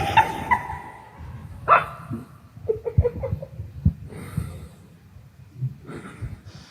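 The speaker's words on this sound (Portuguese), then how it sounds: "a gente tem aqui um filhote de cachorro" A small puppy gives several short, high yips and whimpers with pauses between them, moderately close and without talk.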